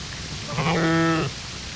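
A single sheep's bleat, loud and close with a wavering harmonic tone lasting about half a second, sounds at a wartime zoo corner in Khmelnytskyi where the animals are kept.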